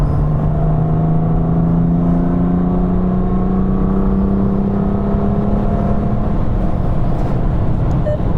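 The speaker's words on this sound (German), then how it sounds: "Straße nutzen zum Rausbeschleunigen" A car accelerates out of the Adenauer Forst corner on the Nürburgring, the engine note rising steadily and loudly from inside the cabin for several seconds with no talk over it.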